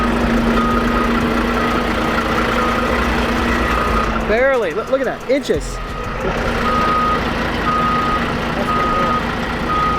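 A semi truck backs into a tight driveway, its engine idling and rumbling while reversing beeps sound loud and close, with people talking nearby.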